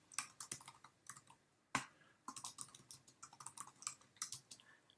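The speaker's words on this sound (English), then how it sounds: "Just type out your message and start typing your URL that you want to share." Someone types a message on a computer keyboard in quick uneven bursts of close, crisp key taps, with a brief pause near the middle.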